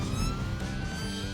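A traffic officer's police car siren wails loudly and close by in a brief, continuous tonal burst.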